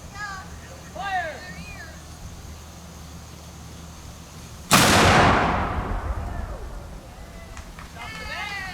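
A single loud, deep boom as an artillery piece fires at a War of 1812 demonstration, followed by a long rumbling decay. Birds chirp and people call out in the open air around it.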